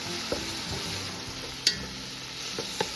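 Chopped onion, garlic and a whole tomato fry in oil left over from frying fish, a constant close sizzle broken by a few sharp clicks from stirring, with no voices.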